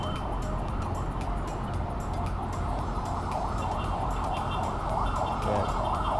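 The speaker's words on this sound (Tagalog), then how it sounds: "Ambulance." An ambulance siren wails steadily through loud street and traffic noise, heard from a rooftop deck in Manila, with a constant rumble underneath.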